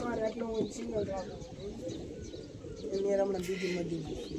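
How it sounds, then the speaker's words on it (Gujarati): Several pigeons coo in a dense, overlapping murmur as they bathe, close by and fairly steady. "કબૂતર નાવા માંડ્યા ફટાફટ."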